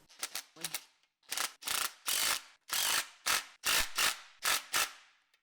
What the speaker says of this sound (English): Now I think we can tighten these up a little bit.